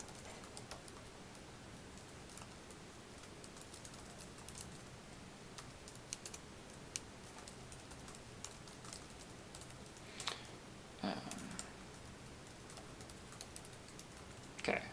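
Fingers type on a computer keyboard in quiet, steady runs of soft clicks and taps, with a few louder keystrokes near the end.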